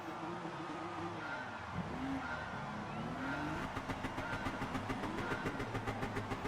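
Race cars in Gran Turismo Sport launch from a Nations Series grid start: engines rev and tires squeal through a brief skid, then a rapid, pulsing engine drone builds as the pack pulls away.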